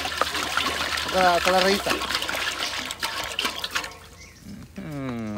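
Water is poured into a cooking pot, a trickling splash running under two people chatting in Spanish, with sung or drawn-out voices over the pour.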